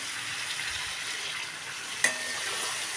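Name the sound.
boiled potatoes stir-fried with spice masala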